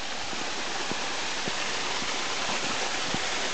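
Artificial waterfall beside a small lagoon and bridge on monastery grounds, a dense continuous rushing hiss of falling water, steady and fairly loud with no voices.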